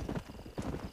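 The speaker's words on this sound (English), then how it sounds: "I'm on a mule!" A mule's hooves clip-clop in Red Dead Redemption, a quick, close, rhythmic run of hoofbeats over about a second.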